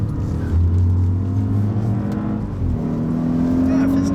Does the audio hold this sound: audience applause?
no